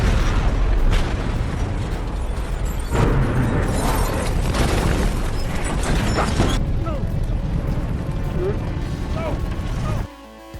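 Dense, loud blasts and crackling debris fill the scene, a car explosion roaring over rumbling noise, with dramatic music or effects layered throughout.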